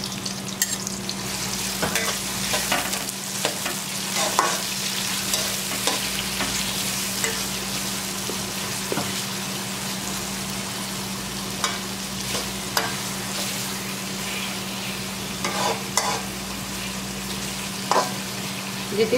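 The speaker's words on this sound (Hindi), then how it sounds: "उसमें ये प्याज स्लाइस करके डाल दें, उसको ब्राउन करने तक फ्राई कर लेते हैं।" Sliced onions frying in oil until brown for chicken biryani, a loud continuous sizzle with a low steady hum beneath and periodic scraping stir strokes, close up and without talk.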